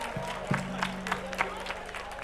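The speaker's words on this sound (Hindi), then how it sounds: "जितना आनंद आया उससे ज्यादा तालियों की आवाज आनी चाहिए।" An audience at a Varanasi kavi sammelan poetry gathering gives scattered, moderately loud applause, with a few sharper claps standing out over a steady low hum and a crowd murmur.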